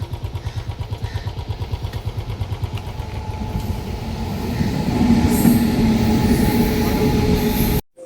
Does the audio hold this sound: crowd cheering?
no